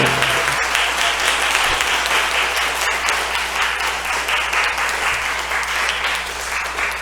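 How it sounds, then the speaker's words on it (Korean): A church congregation at a Sunday morning service claps together in loud, sustained applause that fills the room evenly for the whole stretch, with no break. "박수로"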